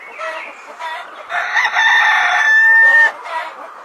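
A farm rooster crows loudly and close, one long rising cock-a-doodle-doo with a held final note, opening with a few short clucks and ending with a brief trailing call.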